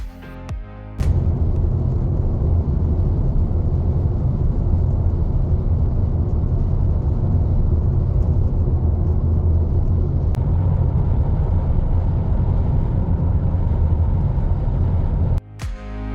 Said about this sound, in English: we drive for about 1 hour and 46 minutes down a perfectly straight road